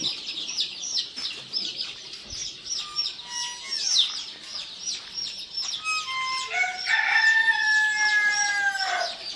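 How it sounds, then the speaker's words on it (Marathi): A flock of chickens clucks and chirps continuously at close range, with a rooster crowing loudly partway through and again near the end, and no talk. "कोंबडीचे जोडीदार आहेत बघा"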